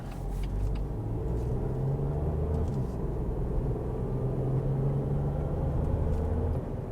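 A BMW X1 climbs a hill at steady speed, its engine giving a continuous low drone with road rumble underneath, even and unbroken throughout, with no voices.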